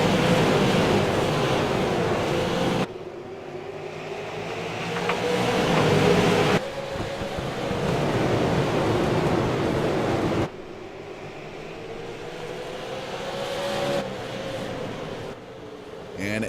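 Stock cars in a racing sim surge back to speed on the green-flag restart at South Boston Speedway, a loud droning engine roar with rising pitch sweeps, broken by abrupt cuts, under a commentator's voice.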